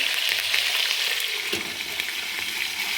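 Oil splattering hard in a pan as curry leaves fry for stuffed capsicum, a dense, loud, continuous hiss with scattered pops and one soft knock, close up and without speech.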